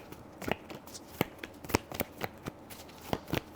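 A deck of tarot cards is shuffled up close, with quick, crisp riffles and soft card slaps in an irregular rhythm over a few seconds.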